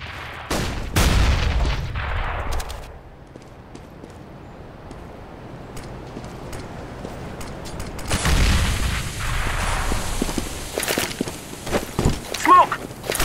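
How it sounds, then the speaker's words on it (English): Grenade and flashbang blasts in Counter-Strike, a couple of loud booms with long decaying rumble separated by quieter stretches of footsteps and gunplay, with speech in the background. "I'm throwing a flashbang!"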